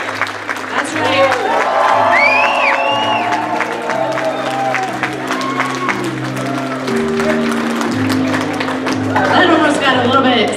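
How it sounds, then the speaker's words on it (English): Convention audience at a comic con press conference applauding, a dense wash of clapping with a few cheers, steady throughout and swelling at the end, under background music and voices. "One more round of applause for Major, Dak, and John"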